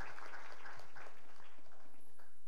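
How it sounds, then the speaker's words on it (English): Audience applause rises at a Pearl Academy of Fashion event, a soft, steady crowd clapping heard from some distance, fairly faint and continuous without talk. "A big round of applause for Shruti Jain."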